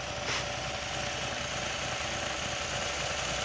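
A 1956 Willys CJ5 with a 327 V8, ram horn exhaust manifolds and new dual exhaust idles quietly, a steady low rumble with even texture and no change in pace, nearby and alone.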